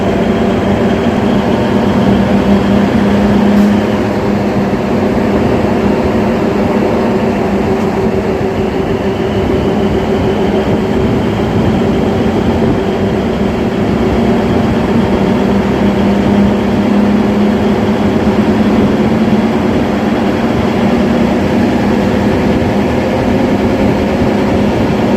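Loud, steady rumble and clatter inside a DEMU train running between Secunderabad and Siddipet, a continuous drone of engine and wheels on track with rhythmic rail rattling throughout.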